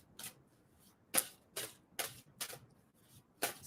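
Tarot cards are shuffled in the hands, a soft sequence of six or so sharp papery flicks spaced unevenly, close and quiet, with no voices.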